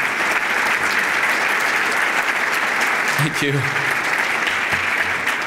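Audience applause at a business luncheon hosted by a board of trade, a sustained, dense clapping filling the room throughout, with a brief spoken thanks from a man partway through.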